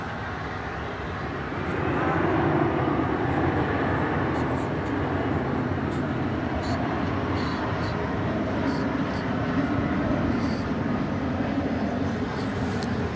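An American Airlines Airbus A321 takes off from runway 18 left at DFW Airport in the evening, its engines a broad, loud roar that swells after a couple of seconds and holds steady at a distance.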